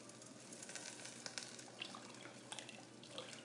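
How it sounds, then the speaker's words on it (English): Water being poured into a pressure cooker pot for chicken noodle soup: a faint, steady splashing rush with small bright drips and trickles, close by but quiet. "So now we're going to add 8 cups of water."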